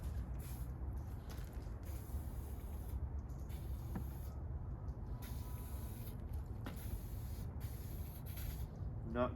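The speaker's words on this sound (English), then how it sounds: "I'm going to use some non-stick oil on the bucket so the concrete doesn't stick to it." Non-stick oil sprayed onto a bucket before pouring a concrete base for an LED parking lot light pole, a steady close hiss that runs through the whole stretch with brief breaks, set against a continuous outdoor rumble.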